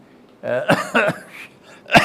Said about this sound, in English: excuse me, I have a cough